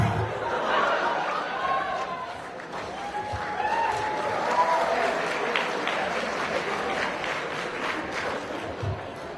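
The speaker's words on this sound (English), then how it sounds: "Why are you applauding?" A cosplay convention audience claps and laughs during an in-character panel. The applause is soft and fairly distant under crowd chatter and chuckles, steady throughout.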